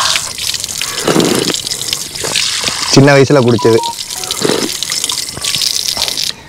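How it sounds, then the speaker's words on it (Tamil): Drinking water runs from a street pipe tap in Pasumpon village, making a steady splashing and trickling sound close by while someone talks over it. "பொதுவாக இந்த மாதிரி வந்து பைப்பில் தண்ணி வரும், அப்படியே குடிப்போம்."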